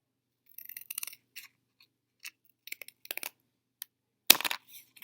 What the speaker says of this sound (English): I'm going to take and cut off the edges where I had the black line.